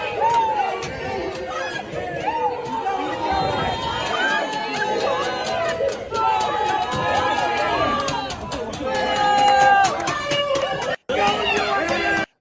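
Dense protest crowd in played footage, a loud babble of many voices with shouts and chants rising and falling throughout, briefly cut off near the end.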